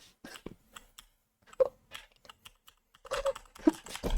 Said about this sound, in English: Something's wrong with my keyboard.